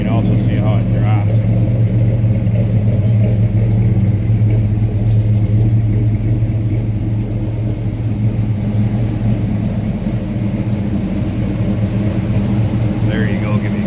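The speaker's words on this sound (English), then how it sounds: "nice rumble out of that 396" A 1966 Chevrolet Biscayne wagon street rod with a 396 V8 idles with a steady, deep rumble, loud and close, holding an even throb throughout with a faint voice briefly under it.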